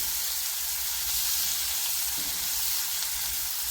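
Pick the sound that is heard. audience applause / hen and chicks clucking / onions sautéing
onions sautéing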